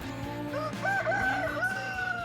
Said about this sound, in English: We have a bunch of chickens and some ducks